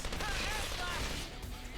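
Battlefield gunfire in Xenoblade Chronicles 3, a busy wash of rapid shots and crashes running steadily underneath a voice talking.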